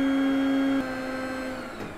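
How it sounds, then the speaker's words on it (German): A wood chip heating boiler hums with a strong steady tone that drops as its blower fan switches on, leaving a broad whooshing drone that carries on steadily. "Sobald die Sensoren dann nachher eben die Flamme recht wahrnehmen, schaltet der Lüfter Föhn an"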